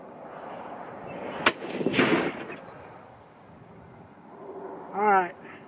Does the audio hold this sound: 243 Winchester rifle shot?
yes